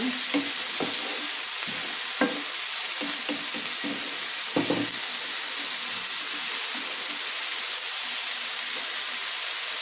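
Vegetables and peas frying in oil and ghee give off a steady bright sizzle, broken by scattered sharp crackles and stirring scrapes in the first half before settling into an even hiss.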